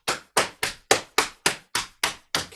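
Loud pats of hands on knees, a steady run of about nine sharp, evenly spaced slaps close by, imitating heavier rain in a body-percussion exercise.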